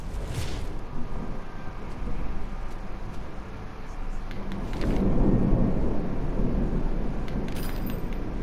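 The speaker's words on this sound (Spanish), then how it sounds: "Una tormenta terrible." A heavy thunderstorm in the video game The Last of Us, heard indoors as a steady low rumble of rain and wind that swells into a louder rolling roar about halfway through, with no talk.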